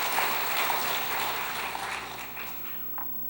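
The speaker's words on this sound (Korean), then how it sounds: "우리 육려전도에 다시 한번 격려의 박수 한번 합시다" A church congregation applauds together during a sermon, a dense broadband patter of clapping that stays steady and then gradually thins out toward the end.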